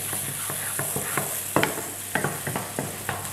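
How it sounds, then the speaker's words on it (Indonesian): Squid pieces stir-fried for salt-and-pepper squid, a steady close sizzle broken by sharp clicks and scrapes of a spatula against the pan, no voices. "Kita tumis dulu nih, ini masih belum terlalu coklat ya."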